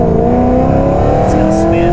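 A car launches and accelerates hard, its engine note climbing steadily in pitch, loud and close from inside the cabin.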